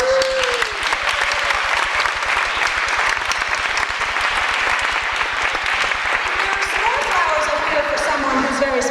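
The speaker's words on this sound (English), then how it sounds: "Give her a round of applause" An audience breaks into sustained, dense applause that holds steady and loud throughout, with a few voices calling out over the clapping.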